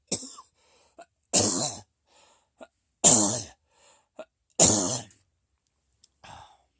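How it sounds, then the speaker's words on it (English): Three loud, harsh coughs at even intervals, close to the microphone, with small throat sounds and breaths in the quiet gaps between them. "Still got a little bit of cough left."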